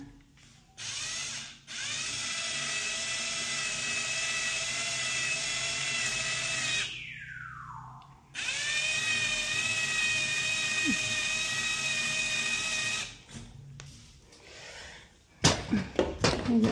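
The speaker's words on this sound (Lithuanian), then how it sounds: "Gręžiam kitą." A power drill bores into a wall in two long continuous runs with a steady high whine, close and loud, a brief pause between them and knocking and handling noises at the end.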